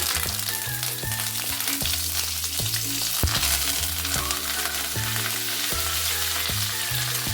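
Green chillies and curry leaves frying in hot oil give a steady, loud crackling sizzle that keeps going for the whole stretch, with background music and no talking.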